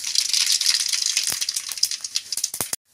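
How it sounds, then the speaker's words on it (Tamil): Mustard seeds dropped into hot oil in a pan, a dense crackling sizzle with rapid popping close up, ending abruptly before a final pop, no talking. "ஹாஃப் டீஸ்பூன் கடுகு சேர்த்துக்கலாங்க."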